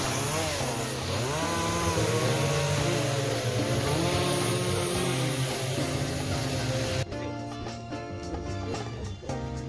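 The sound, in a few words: chainsaw cutting wood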